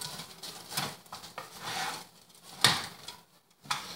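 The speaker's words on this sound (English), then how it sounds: "Give this a quick little stir again." Diced celery, green peas and carrots get stirred in a pan, soft scraping and rustling strokes in short bursts with brief pauses between, quiet and close.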